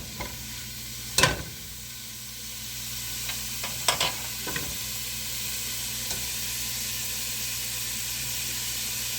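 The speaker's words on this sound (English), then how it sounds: "Sizzling. It is sizzling hot." Ground hamburger meat sizzles steadily in a hot pan, with a few sharp scraping clicks and thumps as it is mashed and broken up, fairly faint and alone without talk.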